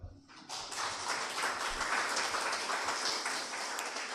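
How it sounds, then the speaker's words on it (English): An audience claps steadily in a meeting room for several seconds, a dense, fairly faint patter of many hands with no talk over it. "Another hand clap."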